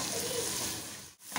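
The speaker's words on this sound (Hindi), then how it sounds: "मैं 2-4 पत्ते कड़ी पत्ते के डाल रही हूँ" Curry leaves dropped into a hot dal tempering give a steady broadband sizzle and crackle, close and fairly loud, breaking off briefly near the end before the hiss resumes.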